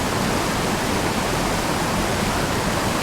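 Wilderness waterfall with a loud, unbroken roaring wash of falling water, close and constant without any pauses.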